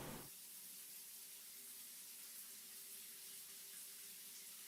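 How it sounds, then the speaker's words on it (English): Shower water spraying in the video game Corpse Factory, a steady hissing spray that starts abruptly and runs evenly and softly throughout, with no voices. "Steam and suds fill my vision as a pleasant torrent of hot water sprays across my body."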